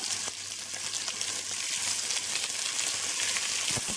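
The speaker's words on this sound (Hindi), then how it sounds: "प्याज को अच्छे से लाल होने तक भूनेंगे" Onions frying in oil with a bay leaf on high flame for mutton curry, a soft steady sizzle with faint crackles and occasional stirring taps.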